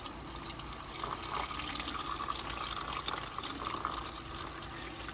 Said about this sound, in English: we need to add some water to this